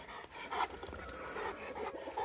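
A Cane Corso dog pants softly and rapidly at close range near a Bully puppy, a quiet, breathy rhythm with small snuffly bursts.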